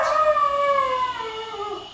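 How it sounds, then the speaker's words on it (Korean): A dog howls in long, wavering tones, sustained and fairly close, alone in a home while its owner is out, with no barks distinct in the stretch. "보호자가 집에 없자 하울링을 하고 짖는 춘식이"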